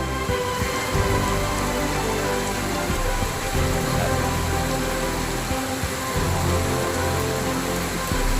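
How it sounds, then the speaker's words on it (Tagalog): Heavy rain pours down steadily in Dumaguete City, a dense, loud, unbroken hiss of drops hitting surfaces for the whole stretch, with no talking. "Look at the rain."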